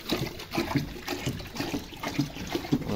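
Warm water is poured at an animal-breeding pen, a splashing, trickling flow with irregular bursts that continues steadily at close range.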